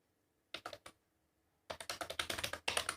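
Typing on a computer keyboard, a short burst of close, quiet key taps, a pause, then a faster run of rhythmic keystrokes with no talk.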